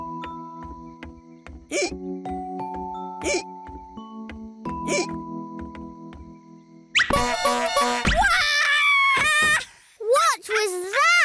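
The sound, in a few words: tootie horn toy horn under a chair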